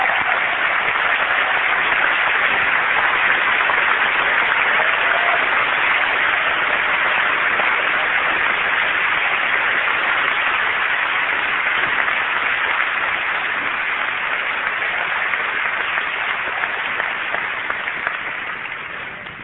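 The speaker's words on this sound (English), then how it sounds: "I'd like to give them a round of applause." A large keynote audience at Macworld 1999 gives long, sustained applause, a thick even roar of clapping that holds for many seconds before tapering slightly at the end.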